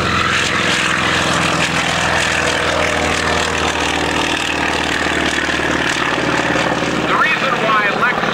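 A propeller airplane climbs out at an airshow in a steady, loud engine drone that holds close throughout and then thins slightly near the end, while a voice talks over it.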